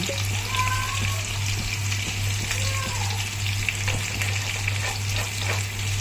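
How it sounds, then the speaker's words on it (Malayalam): Hot oil crackles and sizzles steadily in a pan on the stove while masala is being prepared for a Kerala-style tilapia dish, a continuous close frying hiss with a constant low hum underneath and a few brief clinks. "നമുക്ക് അതിനകത്തിലോട്ട് കുറച്ച് ഓയിലും കൂടെ ഒഴിച്ചു കൊടുക്കാം."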